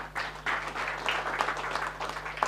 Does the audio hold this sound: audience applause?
yes